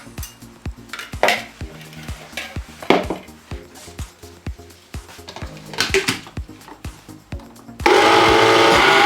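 A kitchen blender remixing a custard mixture with tomatoes for a tomato flan, heard as rhythmic knocking and whirring pulses close up before the motor surges into a loud steady roar near the end.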